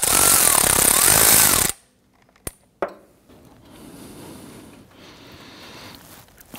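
An impact wrench loosening a bolt on a 2011-2015 Kia Sorento 2.4L, a loud continuous rattling burst that cuts off abruptly, followed by a sharp click, a clunk and quiet handling noise.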